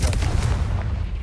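A Confringo fire spell blast in Hogwarts Legacy on PS5 lands as a single short, heavy boom with a low, rumbling body that stays loud for about a second.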